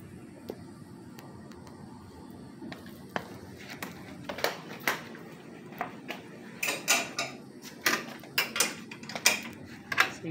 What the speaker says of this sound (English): you're going to go ahead and just take these nuts off right here.